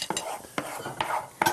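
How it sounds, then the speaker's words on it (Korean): Pen shell scallop and shrimp are stir-fried in a hot pan, with soft sizzling broken by four sharp scraping strokes of a utensil against the pan at close range. "여기에다가 이제 요 키조개하고요. 새우를 살짝 볶아 놓는 거예요."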